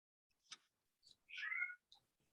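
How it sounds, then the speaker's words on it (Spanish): A pet cat meows at home during an online elementary school PTO meeting, giving a few short chirps and then one longer, clear meow, fairly faint and heard without any talk. "I apologize for the meowing ahead of time."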